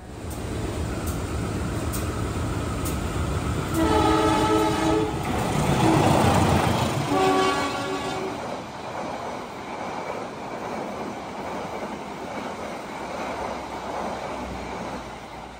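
The KA Airlangga passenger train at Babat station in Lamongan Regency, Indonesia, sounds a loud, sustained horn in two blasts over a steady rumble of rolling wheels and rail noise.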